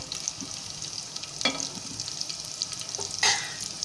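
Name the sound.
chana dal frying in a pan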